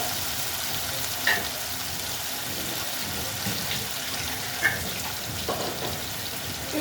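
A ground paste of tomato, ginger, chilli and onion goes into a pan of frying potatoes and sizzles steadily, with a few soft stirring clinks against the pan, heard up close with no talking.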